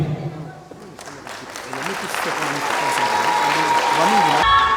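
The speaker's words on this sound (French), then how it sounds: "J'aimerais d'abord que nous puissions applaudir" Audience applause swells at an outdoor rally and recognition gathering, building from scattered claps into a dense steady roar while a voice talks over it and music tones run underneath.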